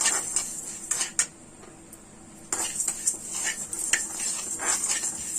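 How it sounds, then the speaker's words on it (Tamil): Chana dal and moong dal dry roast in a pan, the lentils rattling and scraping under a stirring utensil in dense bursts, with a brief quieter pause midway, close-up. "வானொலியில் கடலைப்பருப்பு பாசிப்பருப்பு ரெண்டையும் வந்து நிறமாற வரைக்கும் பொன்னிறமாக நம்ம ட்ரை ரோஸ்ட் பண்ணி எடுத்துக்கலாம்"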